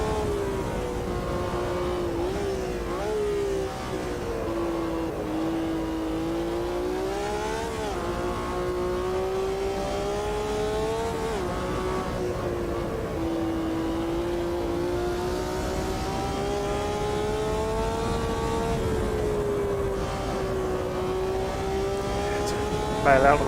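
Race car engine in Automobilista 2 at Bathurst, a loud sustained drone whose pitch rises and dips as the throttle is worked, with a commentator talking over it.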